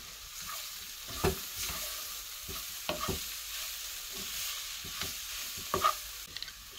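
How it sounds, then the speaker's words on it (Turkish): Radish frying in a pan is stirred with a utensil, a steady soft sizzle broken by several sharp scrapes and knocks against the pan, close and alone with no voices. "Şöyle karıştırıyoruz."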